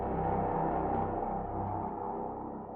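Stomp Sub bass preset from the Sylenth synth, heard alone as a dense, low, sustained rumbling tone that fills the whole clip, steady and moderately loud and fading slightly near the end.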